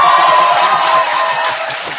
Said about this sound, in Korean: 왜 박수를 치세요?